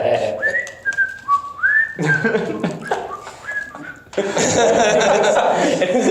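Playful, wandering whistled tune with sliding notes from a tabletop role-playing group, heard over chatter and chuckling, then broken up by louder crosstalk as the players talk over one another.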